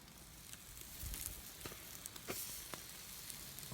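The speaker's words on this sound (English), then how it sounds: "Got a really nice sizzle to it." A soft, steady sizzle of meat over an outdoor fire in cool weather, with occasional pops and crackles rising above the hiss.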